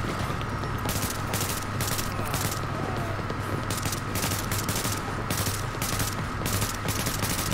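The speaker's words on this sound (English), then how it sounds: "I'm shooting up there." Gunfire in the video game Tom Clancy's The Division, heard as a steady run of rapid, evenly spaced shots that repeats loudly for the whole stretch, with no voices.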